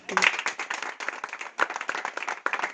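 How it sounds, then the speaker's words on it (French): Scattered audience clapping for a house at a celebration marking twenty years of an asylum-seekers' support programme, a few dozen hands patting unevenly at moderate volume with a brief voice near the start. "Applaudissez pour cette maison."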